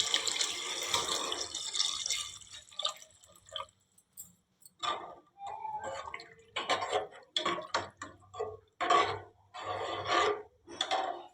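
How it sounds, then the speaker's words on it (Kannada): Water poured into a cooking pot for egg biryani, with splashing and trickling in bursts separated by short pauses, close and moderately loud. "ಇವಾಗ ಇದಕ್ಕೆ ನೀರನ್ನು ಸೇರಿಸ್ತೀನಿ."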